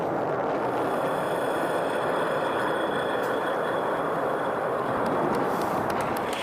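A SpaceX rocket hovers on its gimballed main engine, with cold gas thrusters holding its roll, making a loud, unbroken broadband roar that stays nearly constant throughout.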